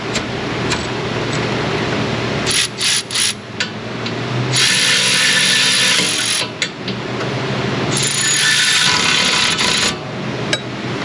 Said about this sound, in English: Milwaukee has adjusted my ratchet since they fixed it, so it won't produce much more than about 11 foot-pounds of torque